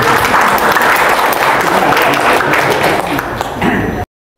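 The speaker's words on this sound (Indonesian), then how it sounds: "tepuk tangan." Audience applause, a dense steady wash of clapping for about four seconds before cutting off abruptly.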